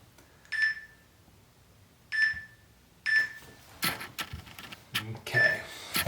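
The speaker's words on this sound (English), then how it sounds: "Let me go ahead and start my timer." Workout timer gives three short, clear electronic beeps about a second apart, then rustling and shuffling movement follows, with one more beep partly masked near the end.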